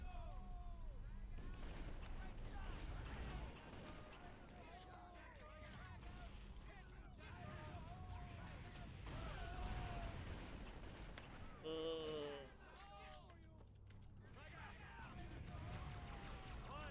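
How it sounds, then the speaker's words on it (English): Explosions and gunfire boom and crack repeatedly through a chaotic Halo: Combat Evolved firefight, with battle noise and voices running throughout and a louder burst near the middle. "And just explosions everywhere."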